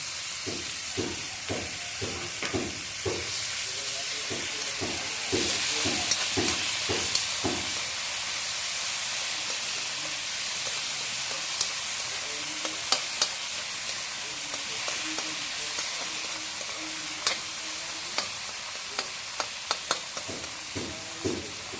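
Ginger and tomato fry in a pan with a continuous bright sizzle. Scraping stir strokes come in quick bursts early on, then sparser clicks and scrapes follow over the steady hiss.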